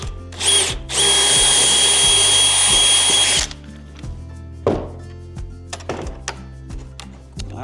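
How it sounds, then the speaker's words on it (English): A power drill whines steadily for a few seconds while drilling into a fiberglass slab shed door, then stops, followed by knocks and clunks of the tool and debris nearby. "Let's go ahead and drill the top out."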